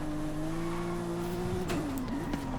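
A GT1 race car in the driving game Forza Horizon holds a steady, high engine whine at full throttle, then wavers briefly as the driver lifts, loud and constant.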